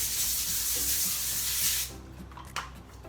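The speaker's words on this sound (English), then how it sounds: "take some cooking spray and spray the foil on the cookie sheet" A loud continuous hiss of cooking spray onto foil on a cookie sheet for about two seconds, close by, then it stops and faint rustling and a small tap follow.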